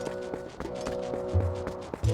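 A horse galloping in Zelda: Twilight Princess, a quick repeating hoofbeat rhythm over a steady musical backdrop, with a couple of deeper thumps near the end.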